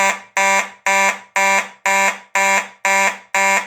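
Simplex 4903-9219 fire alarm horn sounding raspy, blaring in eight loud, evenly spaced buzzing blasts, each roughly a third of a second long with a brief gap between them, close and alone.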